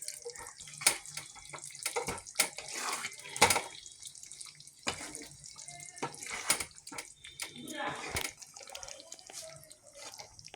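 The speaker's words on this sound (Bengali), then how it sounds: "ওর এটা একটু জল দিয়ে ধুয়ে দেবো।" Tap water runs and splashes over raw chicken being rinsed in a kitchen sink, with irregular sharp drips and splatters over a faint steady flow, close and fairly quiet.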